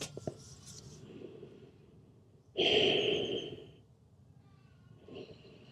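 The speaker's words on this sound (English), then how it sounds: "Just breathing into this side stretch." A slow breath drawn during a yoga side stretch in a morning routine: one long, fairly loud airy exhale rises sharply and then fades, with quiet background before and a softer breath returning near the end.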